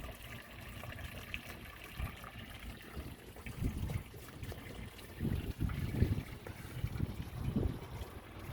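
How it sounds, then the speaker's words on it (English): Water trickles steadily from a garden water feature set among colored bottles and a fish pond, a soft continuous flow with gentle splashy swells throughout. "put this cool water feature on it"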